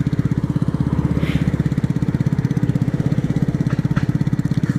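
A nearby engine drones steadily on the road, a loud, even, rapidly pulsing mechanical rumble that continues throughout without a clear rise or fade.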